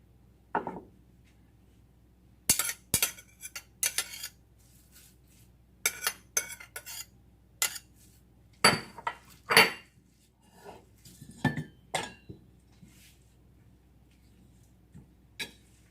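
A spoon mixes buckwheat batter with chopped mugwort and clam meat in a bowl, giving scattered sharp clinks and scrapes against the dish in irregular bursts over a quiet background.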